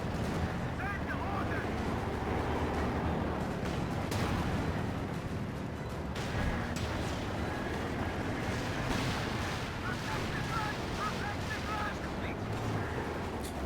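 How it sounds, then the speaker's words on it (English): Stuka dive bomber barrage in a Company of Heroes 2 match, a dense battle soundscape of continuous rumbling explosions and gunfire layered together with no break. "Nice Stuka barrage looking for repairing squads."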